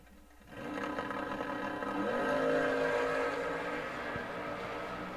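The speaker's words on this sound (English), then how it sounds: "Dallas is going to post 577 for the Camaro." A Camaro launches at a bracket drag race, its engine rising to a sustained loud roar that holds steady and then eases slightly, heard from a moderate distance.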